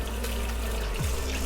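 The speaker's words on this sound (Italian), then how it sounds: "cominciamo a sciacquarla bene con l'acqua fredda" Cold tap water runs steadily over a raw beef tongue being rinsed in a kitchen, a continuous splashing stream with a brief low gurgle near the end and no voices.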